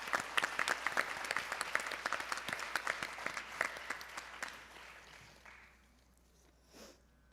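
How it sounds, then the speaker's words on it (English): Applause from the audience at a Bharatanatyam arangetram recital, honouring a virtuoso violinist: dense, fairly distant clapping with a few sharper claps that thins out and fades to near silence by the end. "a huge round of applause for our violinist."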